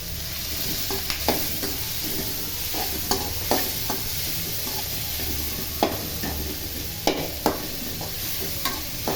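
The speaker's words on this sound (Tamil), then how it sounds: "வெங்காயமும் மிளகாயும் போட்டுக்கலாம்." Onions and chilies sauté in hot oil for a millet rava dosa, with a continuous close sizzle and intermittent scraping taps of a spatula stirring the pan.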